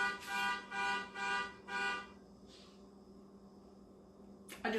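An alarm goes off again during a holiday festival visit at EPCOT, Walt Disney World, sounding as three loud, harmonic buzzing blasts in an even rhythm, followed by quieter background noise.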